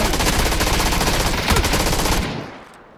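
Dense, loud automatic gunfire from a PUBG match, a sustained burst of rapid shots that fades out near the end, with no talking over it.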